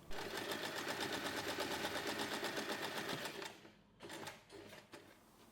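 A sewing machine stitching a flap onto a fabric pouch for a snap wallet keychain, a rapid, even mechanical chatter running for about three seconds, then stopping and restarting in short bursts.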